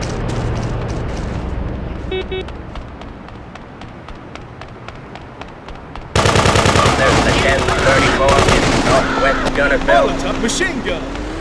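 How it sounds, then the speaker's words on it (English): Rapid sustained machine gun fire from the top-down video game GTA 2 on PC, loud bursts of repeating shots that intensify partway through, with a voice speaking over the gunfire. "Machine gun!"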